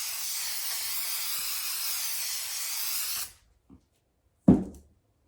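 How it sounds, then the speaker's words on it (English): A steady hiss of spray glue from an aerosol can runs for about three seconds inside a box, then stops, followed by a soft knock and a louder thud. "give my backer a quick spray with my glue."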